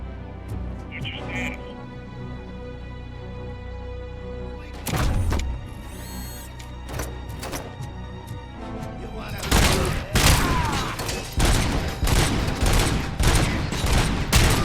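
Gunfire in the shooter game RoboCop: Rogue City, a loud burst of rapid shots in the second half following scattered thuds and booms, with game music and effects throughout and someone talking at times.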